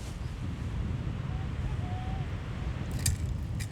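Strong, steady wind buffets the microphone outdoors at a fishing spot, a continuous low rumbling roar with brief gusty swells and faint high clicks near the end.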